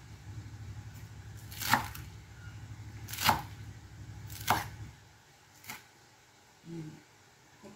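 Knife chopping lettuce and cucumber on a board for a tuna salad, three sharp evenly spaced cuts followed by two lighter taps, close and clear with no talk.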